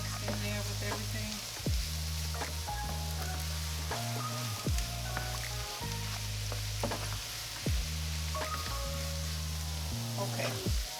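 Garlic and chopped mushrooms sizzling in a pot for taco chilli soup, a steady soft frying hiss with occasional stirring clicks, heard close under a low droning background hum.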